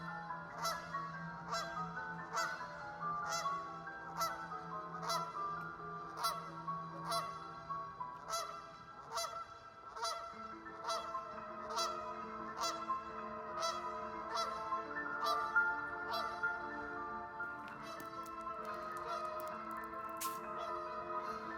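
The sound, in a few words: goose honking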